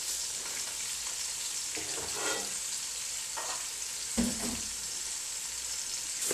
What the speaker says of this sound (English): You know the oil is already very hot, so you're not allowed to fry for too long